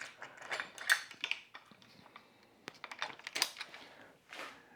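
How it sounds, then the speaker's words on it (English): A nut being threaded back onto the end of a CXWXC RS100 bicycle repair stand during assembly, giving a close series of small metallic clicks, taps and light scrapes in irregular bursts, with no voices. "Put this nut back on the end."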